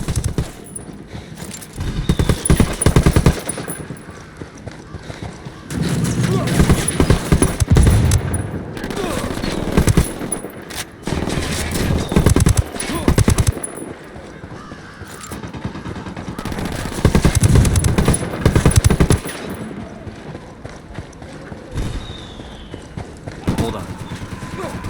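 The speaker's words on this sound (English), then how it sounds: "Taking fire from cartel sicarios." Cartel sicarios open fire in Ghost Recon Wildlands, with repeated bursts of automatic gunfire and rattling volleys coming in waves, mixed with voices talking over the action.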